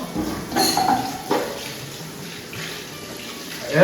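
Water splashes and scrubbing sound close by as a dosa griddle is rinsed and rubbed clean in a sink, with short wet swishes and faint metallic knocks.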